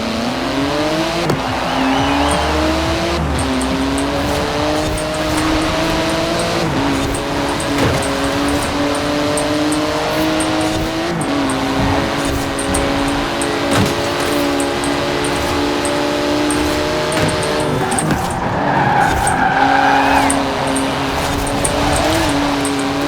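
Supercars including a Porsche GT2 RS and a Dodge Viper race in Forza Horizon 4, engines roaring and shifting through repeated gear changes with occasional tire squeal, loud and continuous throughout.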